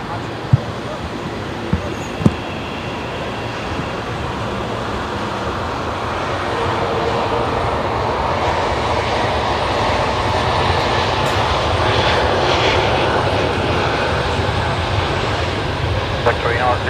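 An Air New Zealand Airbus A321neo departs Brisbane Airport for Auckland with a broad, steadily building jet roar, as people talk and radio chatter is heard over it.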